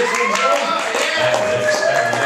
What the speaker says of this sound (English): how about a nice round of applause for a reading by Alex